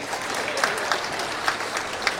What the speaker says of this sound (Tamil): கைதட்டு வைங்க நினைச்சேன்.